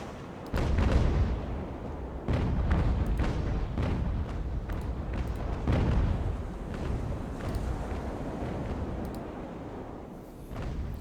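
Naval cannons fire in repeated heavy booms during an Age of Sail ship battle in the game Ultimate Admiral: Age of Sail, a ragged broadside of overlapping blasts with rumbling decay, loud and continuous over several seconds.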